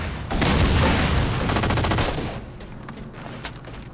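Shotgun blasts from the Halo 4 video game come as a loud, dense burst of gunfire at the start, then trail off into a few fainter scattered shots.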